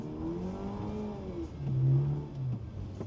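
A car drifting as the driver lifts off and reapplies the throttle: a mid-pitched engine note rises and falls through repeated rev swells, moderately distant, with no speech.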